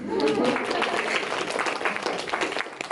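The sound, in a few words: audience applause at a Toastmasters speech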